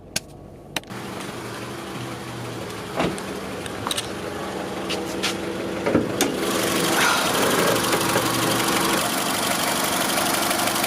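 An idling 2001-2005 Honda Civic engine with a steady, high-pitched alternator whine running underneath, preceded by a few sharp clicks near the start.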